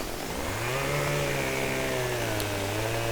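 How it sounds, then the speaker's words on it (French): A chainsaw engine in the video game Farming Simulator 15 drones steadily as it cuts a tree, its pitch rising and then holding in a continuous buzzing whine, up close with no talking. "le premier arbre que je coupe à la tronçonneuse"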